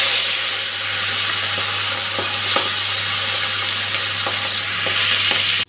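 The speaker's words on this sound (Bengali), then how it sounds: "নুন হলুদ মেখে এখন মাছটা ভাজতে দিয়ে দিচ্ছি।" Magur fish rubbed with salt and turmeric fries in hot oil, giving a steady, even sizzle throughout with occasional small pops and crackles and no voices.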